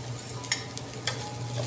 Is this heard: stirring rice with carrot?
yes